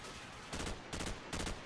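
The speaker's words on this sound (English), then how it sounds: "because it's a shotgun, it's one shot, one kill" Three loud shotgun blasts go off in close quarters among shipping containers in Call of Duty 4: Modern Warfare, evenly spaced with short gaps between them.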